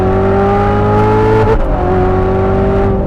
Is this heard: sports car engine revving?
yes